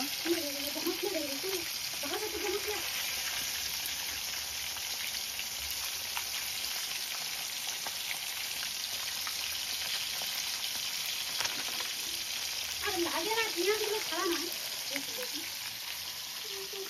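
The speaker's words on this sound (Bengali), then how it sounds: "মাছের মাথাগুলো ভাজা হয়ে গেল" Fish heads frying in a pan give a steady, moderate sizzle that holds throughout, with faint voices chattering in the background at the start and again near the end.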